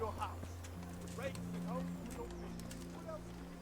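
Faint hoofbeats and a short horse whinny from Kingdom Come: Deliverance sound through a low steady hum, with quiet talking around them.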